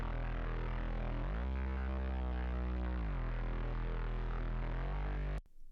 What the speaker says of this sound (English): It is the Mega Bass is what I've called it.